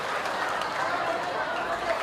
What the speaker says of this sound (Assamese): আপোনালোকক এজাৰি হাত চাপৰিৰে তেওঁক আদৰণি জনাবলৈ অনুৰোধ জনাইছোঁ